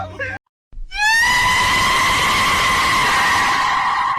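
A modified Honda Civic with its catalytic converter removed lets out a sudden, loud, rising metallic howl from its exhaust after a brief silence, holding at a high sustained pitch close by.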